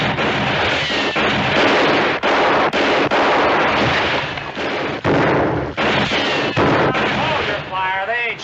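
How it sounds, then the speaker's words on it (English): A loud, sustained western shootout with rapid overlapping gunfire, shots cracking one after another over several seconds, dense and close with no pauses in the volley. "Hold your fire. They ain't shooting back."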